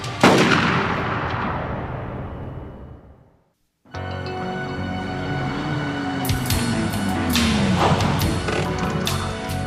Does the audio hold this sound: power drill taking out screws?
no